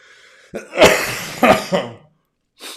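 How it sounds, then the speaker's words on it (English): A person coughs dryly several times up close, harsh unproductive bursts in quick succession with breathy tails, followed after a pause by a softer short exhale. "It's dry cough."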